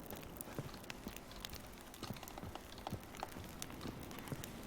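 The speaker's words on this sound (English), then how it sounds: "fall asleep to the pitter-patter of rain" Steady rain falls in The Witcher 3, a soft, continuous patter of drops on surfaces with scattered brighter droplet ticks, fairly quiet and uninterrupted.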